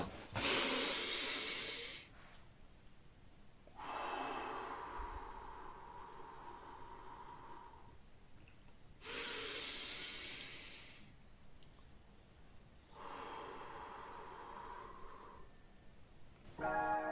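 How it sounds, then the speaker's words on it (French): Slow, deep breathing during a relaxation exercise: long airy inhales and exhales alternate in broad waves of hiss with brief pauses between them, close to the mic and with no talking. "Respire, viens, on va respirer ensemble."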